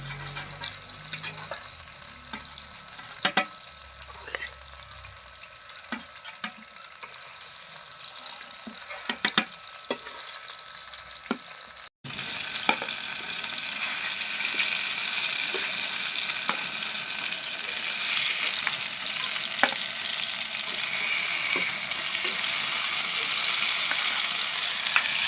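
Oil sizzles on the stove while cooking fish biryani. The frying is soft and sparse at first, then turns abruptly into a loud, continuous close-up hiss with small pops.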